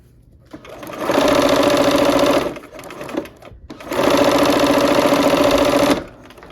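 A sewing machine stitches a cherry blossom quilt in two steady, loud bursts of rapid whirring, the first lasting about a second and a half, then a brief pause with a soft click before a second equally long run.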